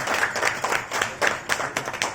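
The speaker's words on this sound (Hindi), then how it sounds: "तालियां कुछ बजी नहीं यार," Scattered audience clapping at a live gathering, thin and uneven, with a handful of hands beating a loose, roughly steady rhythm rather than full applause.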